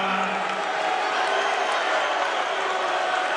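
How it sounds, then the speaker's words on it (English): Basketball crowd at a Bradley versus Indiana State game, a dense, continuous roar swelling loud during a free throw, with voices mixed into the din. "Crowd gets loud."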